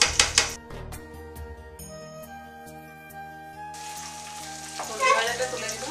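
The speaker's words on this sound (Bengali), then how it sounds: "আলু আর ফুলকপি ছেড়ে দিলাম ভেজে।" Potatoes and cauliflower fry in hot oil, a bright sizzle that flares at the start, settles to a low hiss and surges again near the end with stirring, no voices present.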